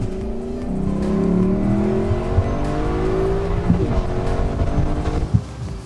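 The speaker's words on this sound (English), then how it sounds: "the V8 has that great bellow" The deep V8 engine of a 2021 Lexus LC500 Convertible revs and bellows through several rising pulls, the exhaust roaring loud and close with gear changes and pops.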